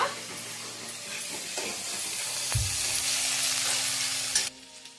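Onions frying in a pan for a potato bhaji, a steady loud sizzle and hiss with a few stirring clatters and a thump, the frying noise cutting down sharply near the end.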